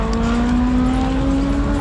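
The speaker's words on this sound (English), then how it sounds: "Here comes the caterham, the red one." A small red Caterham race car at a Tunerfest time-attack event drives by close and loud, its engine a strong, steady high-revving drone with a slowly rising pitch, no voices heard.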